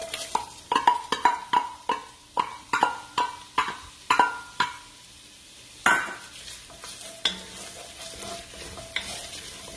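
Oil sizzles and crackles as shallots fry in a pan, opening with a quick run of sharp metallic stirring clacks, then settling into a steady quieter fry.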